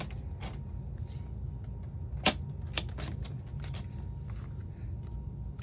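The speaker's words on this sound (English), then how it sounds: "let's just round all of these corners" A corner rounder punch cutting the corners of paper craft tags, a few sharp, separate clicks and snaps over faint handling rustle, close by, with no talking.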